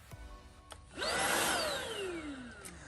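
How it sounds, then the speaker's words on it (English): A Eufy HomeVac S11 Infinity cordless stick vacuum by Anker starts up on a dirty workshop floor, rising quickly into a loud, steady motor whine with a high, sweeping pitch that slowly settles. "let's take a look at the vacuum and see how it works"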